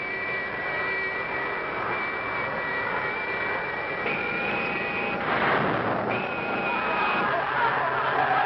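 Sci-fi space station thrusters turned up, a loud, continuous jet-like roar with whining tones that swells midway, while a voice talks over it.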